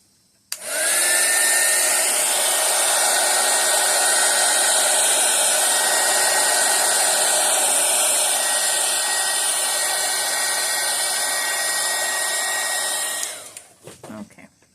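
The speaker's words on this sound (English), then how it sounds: "I'm gonna hit it with the heat gun real quick." A heat gun blows a steady, loud rushing stream of hot air over resin for about twelve seconds, starting abruptly and cutting off near the end with a brief clatter.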